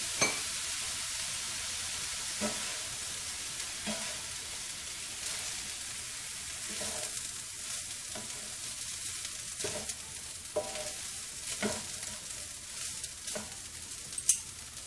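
Shrimp, scallops and lobster with a little teriyaki sauce sizzle steadily on a hibachi over high flame, a continuous close frying hiss broken by occasional sharper pops and spatters, with no talk.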